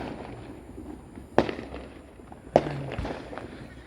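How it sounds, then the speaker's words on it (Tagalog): Fireworks explode outdoors in front of a house, two sharp, loud bangs about a second apart, with a quieter pop following, over faint background ambience. "Ayan, may puputok pa rin."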